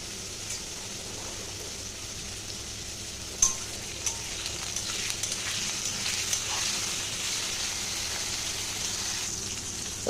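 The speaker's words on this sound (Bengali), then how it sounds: "তো নুনটা দিয়ে একটু নাড়িয়ে দেবো" Potato and eggplant fry in a pan with salt while being stirred, giving a steady soft sizzle with occasional scrapes and clicks, close and moderately quiet.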